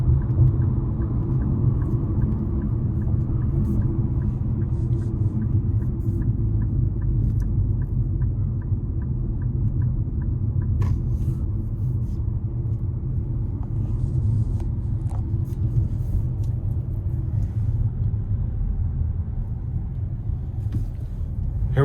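A 2025 Nissan Kicks SR in sport mode pulls onto the interstate, heard from inside as a steady low engine and road rumble that holds loud and even throughout, no talking.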